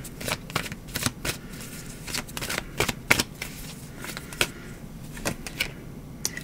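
A tarot card deck is shuffled close up in repeated quick riffling bursts, light flicks and slaps at an irregular rhythm, with no talking.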